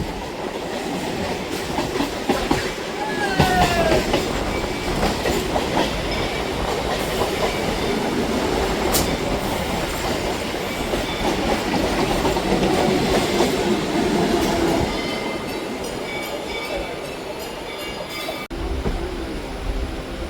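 A Kolkata local train runs on the Madhyamgram–Majherhat route, heard from inside. It gives a loud, steady rumble with rhythmic clickety-clack wheel beats and brief squeals, and a sharp click near the middle.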